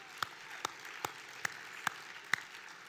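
Six evenly spaced single hand claps ring out in a quiet gala hall, sharp and isolated over faint background hiss, one person clapping slowly rather than a full crowd.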